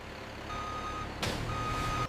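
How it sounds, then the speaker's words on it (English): A distribution truck pulls in at a LUX soap factory, its reversing alarm beeping in a steady repeated tone over a low engine rumble, with a loud hiss of air brakes near the end. "A distribution truck arrives to carry the finished LUX soap onward."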